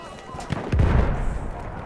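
Grenade blasts in the shooter game Battlefield 1, a heavy booming burst rolling out over about a second amid dense battle noise, with voices talking over the action.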